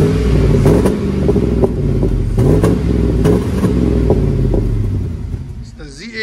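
A Chevy truck with a 4.8L V8 and straight-pipe dual exhaust revs close by, a loud, deep, throaty rumble rising and falling through several blips before settling back toward idle.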